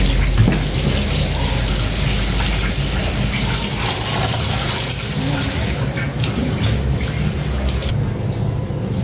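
Running tap water gushes steadily and loudly as food is washed under the faucet before a vinegar soak. The flow is continuous and close and stops abruptly near the end.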